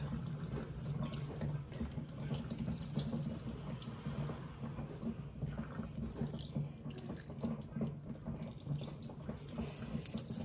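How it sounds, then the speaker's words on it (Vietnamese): Running tap water streams directly over eggs in a sink as they are rinsed for making salted eggs, a steady close splashing flow with small fluctuations and no speech. "các bạn cứ xả nước trực tiếp vào cái quả trứng để cho nó sạch quả trứng"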